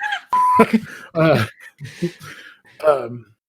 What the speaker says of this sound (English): Somebody's trying to call me.